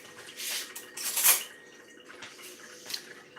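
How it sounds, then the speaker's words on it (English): A kitchen knife and chopping board being washed under running water, with clattering of utensils and dishes against the sink in irregular bursts, close and fairly loud, no talking. "So I'm cleaning up my knife and my chopping board and all that fun stuff."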